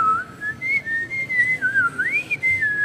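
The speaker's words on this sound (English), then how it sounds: "sometimes I do get a melody on the way home, on the way in, and I whistle" A man whistles a wavering melody alone, one clear sustained tone gliding up and down in pitch, close and fairly loud.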